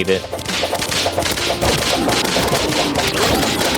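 Rapid, dense gunfire in the video game Terraria with the Calamity mod, a loud continuous volley of shots and booms layered over game music.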